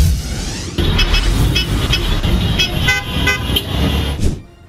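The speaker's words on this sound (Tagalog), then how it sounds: "Sabay-sabay na bumusina kaninang umaga sa harap ng main office ng Transportation Franchising and Regulatory Board ang mga driver ng Transport Network Vehicle Service" Several vehicle horns honk together from TNVS drivers protesting outside the Transportation Franchising and Regulatory Board main office, loud, overlapping, sustained blasts over traffic rumble, cutting off near the end.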